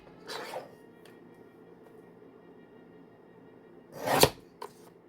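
Scissors trimming a paper journaling card, two short crisp snips a few seconds apart close by in an otherwise quiet room.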